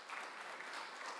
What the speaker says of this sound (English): Let's give one big round of applause to all of the speakers again.